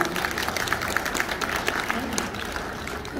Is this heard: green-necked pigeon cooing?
no